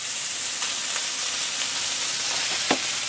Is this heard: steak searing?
yes